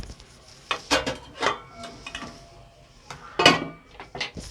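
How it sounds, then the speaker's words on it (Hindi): Metal spoon scraping and clinking against a pot while stirring okra (bhindi) with spices, a series of irregular sharp knocks and scrapes, close and alone. "इसको चमचा चलाते हुए बस इस तरीके से चमचा चलाएंगे"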